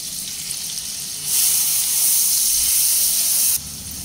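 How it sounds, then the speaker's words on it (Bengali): Finely chopped onions sizzle loudly in hot oil in a pan. The frying hiss jumps sharply louder partway through as the onions are added or stirred, then drops back to a steady crackle. "পেঁয়াজ নেড়ে চেড়ে ভাজা হতে দেব।"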